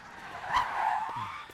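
A car's tires screech in a short skid to a stop, a rising hiss that swells and fades over about a second and a half, fairly close.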